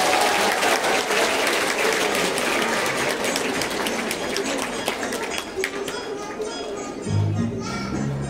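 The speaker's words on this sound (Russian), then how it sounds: "Громче аплодисменты." Loud, sustained applause from an audience at a school graduation ceremony as the youngest pupils are welcomed, continuous clapping with children's voices mixed in and music beginning near the end.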